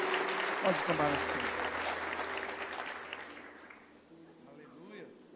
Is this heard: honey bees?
no